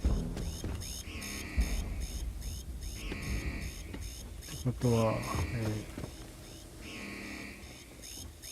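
In the video game Starfield, an alarm buzzer sounds in repeated pulses at a steady rhythm, moderately loud, with someone talking briefly over it.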